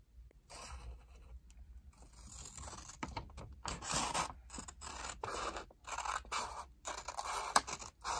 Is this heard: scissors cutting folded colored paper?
yes